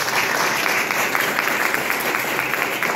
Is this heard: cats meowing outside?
no